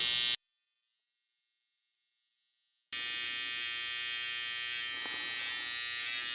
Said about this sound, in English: let your clipper cut the hair